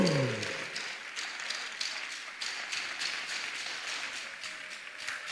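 A church congregation applauds and cheers for Jesus, a dense, steady wash of clapping from many hands that fills the room at moderate loudness, with a brief tonal sound fading out at the start.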